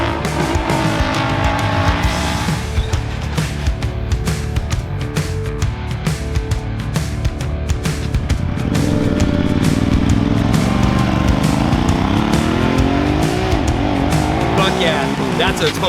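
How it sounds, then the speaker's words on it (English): Honda Talon off-road side-by-side fitted with a Kraftwerks Extreme R titanium exhaust, engine revving and roaring steadily as it drives and climbs in pitch, with voices talking over it. "we got our Extreme R exhaust to make sure that this machine can breathe, sound great, and make the power that it needs to"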